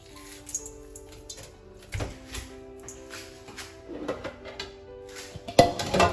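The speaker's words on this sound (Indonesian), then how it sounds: "Gue ambil piring." Ceramic dishes clink and clatter as a plate is taken out in a home kitchen while making chicken meatballs, a few sharp knocks and rattles ending in a louder clink.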